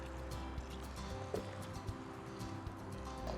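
Water poured from a can over potted vegetable seedlings, a seaweed solution splashing and trickling into dry potting soil; a steady close, low wash of liquid with small drips and splashes, no talking.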